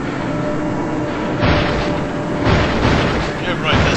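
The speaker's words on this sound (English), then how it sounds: "I'll toss the nade" A grenade bursts in the Resident Evil 4 video game, heavy booms swelling twice amid dense, continuous game noise and rumble.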